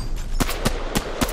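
In the Fortnite video game, a gun fires four sharp, loud shots in quick, evenly spaced succession, each a hard crack with a short tail.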